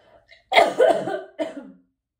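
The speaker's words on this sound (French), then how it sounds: "Ça me fait tousser à chaque fois." A person coughs close by, a cluster of harsh coughs followed by one more short cough, with silence around it.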